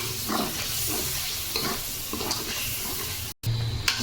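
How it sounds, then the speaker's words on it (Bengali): Fish heads frying and being stirred in a pan, a steady close sizzle broken by repeated scraping strokes, with a brief dropout near the end before the frying noise returns. "মাছের মাথাগুলো ভালোভাবে কষে নিতে আসছে অনেকক্ষণ ভালোভাবে কষে তারপর শাক দেব"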